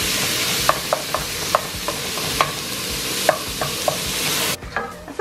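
Ground meat for taco chili sizzles steadily in a pan while a utensil breaks it apart, scraping and tapping against the pan in irregular clicks over the continuous frying hiss.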